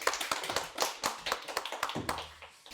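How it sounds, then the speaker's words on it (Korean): Audience applause at a college award ceremony in Incheon, heard as a sparse, irregular patter of nearby hand claps over about three seconds, with no voices. "박수 한번 부탁드릴게요."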